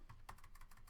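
Rapid, faint typing on a computer keyboard, keys clicking in a quick uneven run of close taps.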